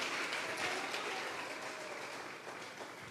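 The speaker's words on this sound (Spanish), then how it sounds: "Vamos a regalarle ofrenda de palmas al Dios de la gloria." Church congregation applauding at a Sunday service, a steady wash of clapping hands filling the whole stretch at moderate loudness with no talk over it.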